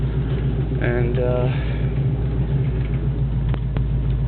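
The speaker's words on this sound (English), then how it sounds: "I want to pop the hood and get another shot of that motor while it's running" A 1970 Ford Mustang Grabber engine running on a cool morning in Florida, a steady low rumble close by with a brief voice over it.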